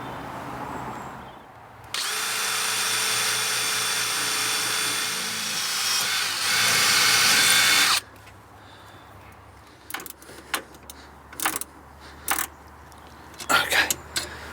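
A power drill bores holes in metal for a Webasto fuel-burning heater's fuel pump bracket, a steady loud whine lasting about six seconds, followed by scattered knocks and handling clatter.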